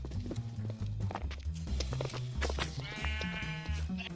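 Minecraft sheep bleat repeatedly over steady game background and footstep-like thuds, several wavering calls overlapping, clear and close.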